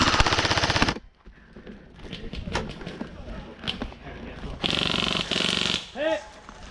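Airsoft guns fire during a game at Absolute Airsoft, with rapid full-auto bursts at the start and again later, mixed with shouting and scattered clacks, fairly close.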